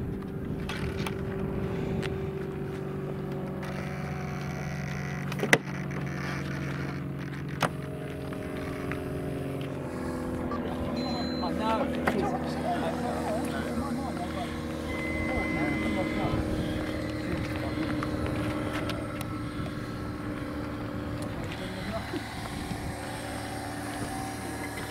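A 1:7 scale T-One Models Eurofighter Typhoon with a KingTech K-160G2 turbine flies overhead, giving off a steady, sustained jet roar that stays fairly even throughout, with voices talking nearby.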